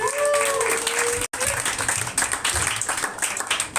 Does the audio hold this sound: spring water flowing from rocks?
no